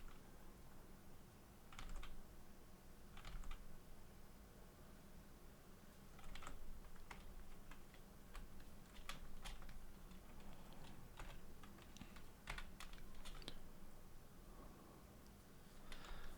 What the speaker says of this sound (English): Just keep hitting the wrong keys.